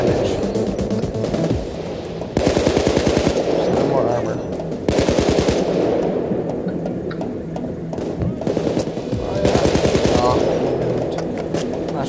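Automatic gunfire in the video game Payday 2, with several loud, rapid bursts repeating over a continuous game soundscape and a voice speaking at times.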